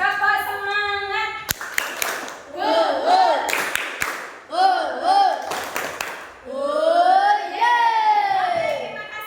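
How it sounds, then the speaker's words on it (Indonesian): Group of fourth-grade children doing a rhythmic spirit clap in class, bursts of patterned clapping alternating with loud chanted children's voices in short phrases. "Kita lakukan tepuk semangat terlebih dahulu."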